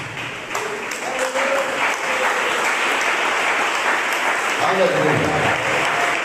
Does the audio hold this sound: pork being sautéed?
no